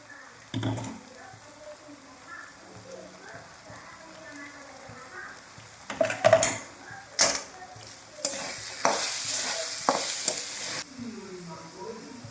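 Grated dried coconut and cashews sizzle and fry in a pan as a masala for mutton curry. Stirring scrapes and clinks come and go over a steady crackle, which swells louder in the second half.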